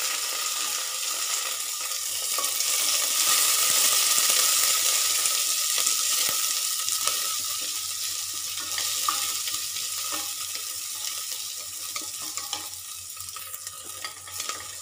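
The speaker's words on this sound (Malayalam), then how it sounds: "ഇനി നമുക്ക് വേപ്പിലയും പച്ചമുളകും ഇട്ട് കൊടുക്കാം." Curry leaves and green chillies sizzle in hot oil for a chicken molee, making a loud, bright, continuous crackling hiss close by, with faint stirring taps and no voices.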